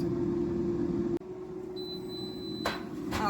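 A steady hum from an Instant Vortex 6-quart air fryer cooking pork chops cuts off abruptly, followed by a thin sustained electronic tone and two short bright beeps near the end, close and clear.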